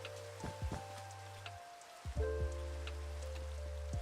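Rain falls in Minecraft as a soft, steady patter, with a few brief watery blips and quiet game tones over a low steady hum, faint and continuous, no voices.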